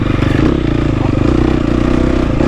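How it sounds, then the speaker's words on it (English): A GasGas EX250F four-stroke dirt bike engine roars loud and close with a rough pulsing drone. It holds a steady high-revving pitch throughout with a gritty, clattering edge. "But the bike does pull really good."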